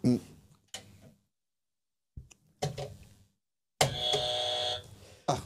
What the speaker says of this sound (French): On me dit de buzzer, je buzz.